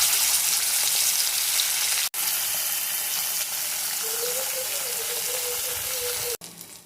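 Sardines frying in oil heated to smoking point give off a loud, steady, close hiss of sizzling fat, continuous throughout with two brief abrupt cuts.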